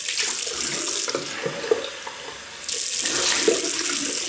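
Warm water runs hard from a tap into a sink for rinsing after a shave, a loud close steady gush that briefly eases in the middle, then surges again, with no talking.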